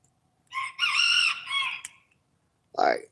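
A BB red rooster crows twice, a long full cock-a-doodle-doo followed after a pause by a short, loud second call, close by with no talking.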